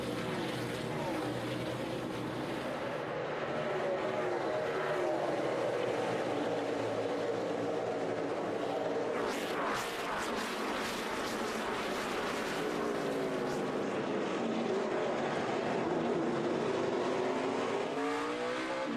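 Race cars roar down a long downhill straightaway and brake hard into a turn, their loud engine wails shifting pitch, with a commentator's voice talking over them.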